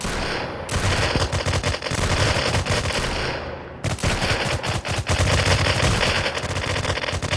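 Rapid bursts of gunfire from the shooter video game rec.o.r.d, including shotgun blasts, crackle loudly and almost continuously, with one brief pause before the firing resumes.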